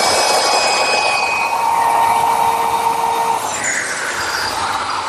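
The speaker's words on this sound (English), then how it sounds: "To ease the edges of our tabletop, I'm using a 3/8 inch radius roundover bit." A router fitted with a 3/8 inch radius roundover bit eases the edges of a patio tabletop, giving a loud, steady high whine with a cutting rasp that shifts in pitch midway and then continues.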